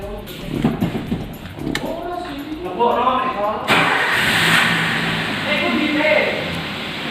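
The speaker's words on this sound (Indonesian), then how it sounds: "Ini dengarkan suara mesin." A car engine cranks and starts after an ignition coil check, then runs at a steady idle with no misfire, with people talking over it throughout.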